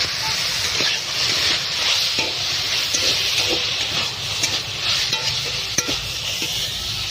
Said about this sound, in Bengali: এই যে উচ্ছে ভাজা হচ্ছে